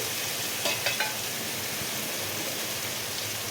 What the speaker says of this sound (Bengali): এক এক করে সব মশলা দিয়ে আলুটা কষে দিচ্ছি